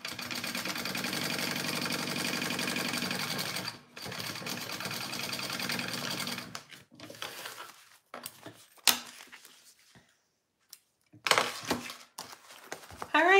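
A sewing machine stitches the side of a bowler bag in a steady run for several seconds, then stops and restarts in short bursts between quiet pauses and handling noises.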